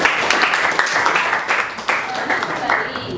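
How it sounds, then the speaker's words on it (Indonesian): Students in a classroom clap for a classmate after a presentation, a loud burst of many hands with a few distinct louder claps, steady through the clip. "Oke, tepuk tangan lagi sekali buat teman"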